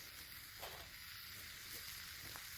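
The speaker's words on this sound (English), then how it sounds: "Well, that's the noise of the bacon." Bacon and black pudding sizzle in a pan on a camping stove outdoors, a steady close hiss with a few brief crackles and pops rising over it, no voices.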